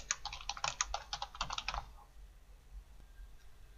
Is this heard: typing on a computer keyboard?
yes